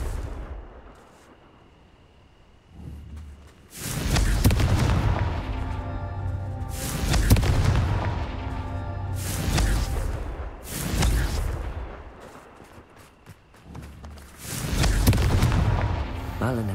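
Confringo fire-spell blasts in Hogwarts Legacy arrive as a series of heavy booming explosions, each followed by a roaring, crackling rumble. The blasts come in close, loud waves separated by brief lulls.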